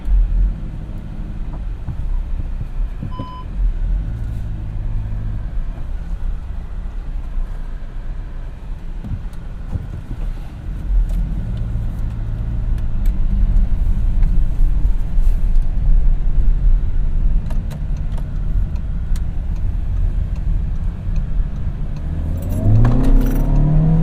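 A 2016 VW Touran with a 2.0L TDI diesel and six-speed manual pulls away with a steady low engine rumble and road noise, growing slightly louder as it accelerates, heard from inside the cabin.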